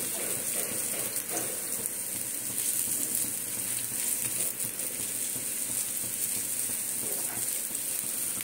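A gas stove burner roars steadily beneath the loud, continuous sizzle of kofta balls frying in oil, with faint stirring clatter now and then and no voices.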